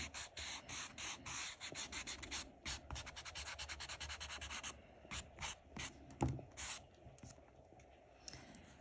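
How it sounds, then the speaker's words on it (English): Kneaded eraser rubbing out pencil grid lines on drawing paper, a rapid run of short scrubbing strokes, close and fairly loud, slowing into scattered rubs near the end, with no voices. "I'm going to erase some of these grid lines, especially the ones in the center"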